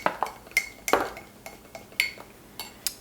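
A utensil clinks and scrapes against a bowl while ingredients are mixed, about a dozen sharp, close taps and knocks in an uneven rhythm, with no talk.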